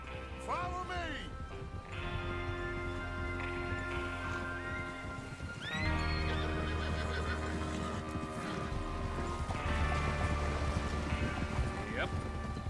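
Horses in the video game Red Dead Redemption 2 whinny several times, sharp rising and falling neighs spaced across the stretch over soft hoof clops and rain, with people talking underneath.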